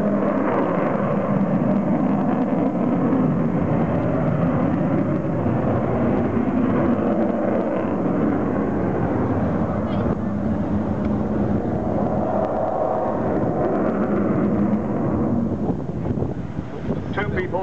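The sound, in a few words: Avro Vulcan XH558 bomber flying at Clacton Airshow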